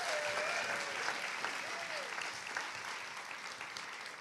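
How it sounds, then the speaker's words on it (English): Steady applause from a conference audience at a morning creative talk series, a dense even patter of many hands clapping throughout, with a faint whistle-like tone near the start. "Can we give him one more round of applause?"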